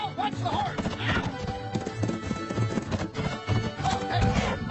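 Rhythmic hoofbeats clop busily up close amid other noise, with a short whinny near the start and end; people are also talking.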